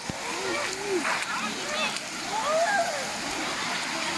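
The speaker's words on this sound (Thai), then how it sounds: "ที่ว่ามันมี น้ำไหลมาตาม บันไดจากในถ้ำนะครับ" Water rushes and splashes steadily down stairs from inside a cave, with a constant close wash of flowing water and scattered splatters throughout.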